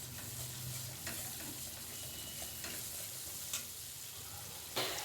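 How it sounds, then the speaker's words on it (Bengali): Spice masala frying in a pan for a vegetarian potato and green jackfruit dalna, a dense steady sizzle with occasional scraping stirs, close and alone. "এবার ভালোভাবে মশলাটা কষে নিচ্ছি"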